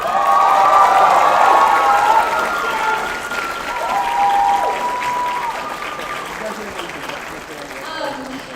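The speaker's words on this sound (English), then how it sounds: "Can we give it one more round of applause for another great show this season?" Audience applause with scattered cheers and whoops at a university Filipino student club's cultural showcase, loud and sustained at first, then thinning but continuing throughout, with voices calling out over the clapping.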